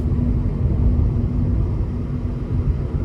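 Climate control fan in a 2025 Nissan Versa S blowing at high speed, a steady loud low rumbling whoosh with a faint hum, continuous and unchanging, with no voices.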